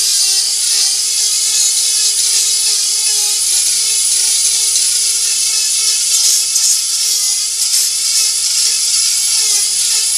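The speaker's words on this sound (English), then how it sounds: "I'm going to fire up my Dremel. And I'm going to clean up the outside of this wood." A Dremel rotary tool whines steadily at high speed while cleaning up the outside of weathered wood during beginner power carving, loud and close throughout with small pitch wobbles as it bites, no talking.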